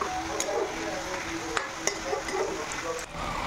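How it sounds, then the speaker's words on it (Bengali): Chicken pieces and potato chunks sautéing in a pan over a medium flame give a steady low sizzle. A few sharp scrapes of a spoon against the pan cut through now and then, with faint background tones underneath. "মোটামুটি একটুক্ষণ কষিয়ে নিচ্ছি মাংসটাকে"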